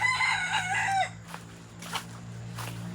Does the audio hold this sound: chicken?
yes